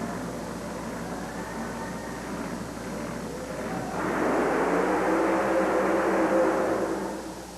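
The Psychotic Speed monster truck makes a racing run at a 1990 USHRA event in Baltimore, its engine roar swelling midway into a loud, sustained drone heard from across the arena.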